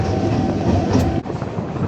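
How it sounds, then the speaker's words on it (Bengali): An empty commuter train runs steadily on its rails, heard from beside the open door as a loud continuous rumble and rattle with no speech. "পুরো ফাঁকা ট্রেন ভাই"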